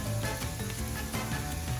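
Garlic and onion sizzle and crackle steadily in a hot pan, a close, bright frying hiss with small pops throughout.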